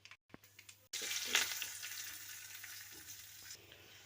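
Cumin, mustard seeds and asafoetida hit hot oil after a brief quiet start and sizzle loudly and steadily at close range, with a crackling burst near the start of the frying, while tempering for drumstick-leaf dal.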